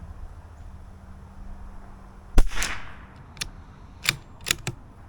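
Gunshots at an outdoor shooting range, one sharp close report followed by several more spaced cracks and a few fainter pops over steady background hiss.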